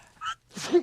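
A single quick sneeze, a short intake followed by a breathy burst, up close in a quiet indoor setting.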